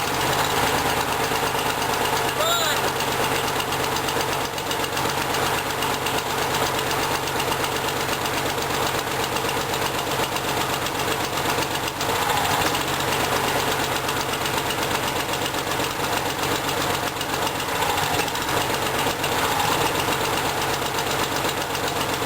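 A Toro Super Pro Recycler II lawn mower engine runs close and loud on full choke, a continuous rough, knocking drone that holds steady throughout with no talk.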